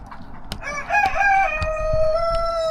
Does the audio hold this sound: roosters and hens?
yes